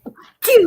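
A single loud, close human sneeze with a sharp burst after a couple of soft preparatory breaths.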